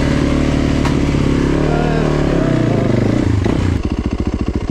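A 4-stroke dirt bike engine revs loudly up close, its pitch climbing and falling across a long throttle sweep, then dropping into a steady, throbbing idle.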